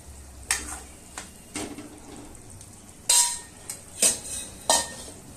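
Metal spoon scraping and clinking against a pan as rohu fish simmers in a yogurt curry, a string of sharp separate strikes at irregular intervals over a low background.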